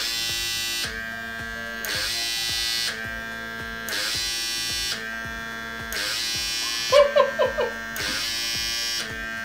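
A lip plumping device pulses suction on the lips, making a rhythmic electric buzz that switches on and off about once a second, close and steady, with a few faint extra clicks near the end.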